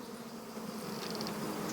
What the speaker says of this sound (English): The bees are the biggest in the world and amongst the most dangerous.